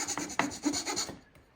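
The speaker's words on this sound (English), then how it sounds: "as I start chiseling this out, some relief cuts where the grain kind of comes downhill" Chisel paring into wood for a Krenov-style smoothing plane, relief cuts along sloping grain: a few short scraping, rasping strokes close by, fading into near silence at the end.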